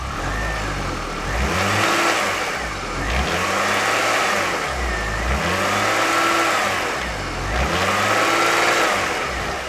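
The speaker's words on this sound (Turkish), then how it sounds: "İkinci şahsin yapması gereken gaz ve freni aynı anda basarak tabii ki el freni çekik durumda. Motor kulaklarına biraz baskı veriyoruz." A car engine repeatedly revved under load with gas and brake pressed together and the handbrake on, surging in rhythmic rises and falls about every two seconds, close and loud with no talk.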